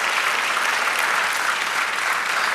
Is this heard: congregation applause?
yes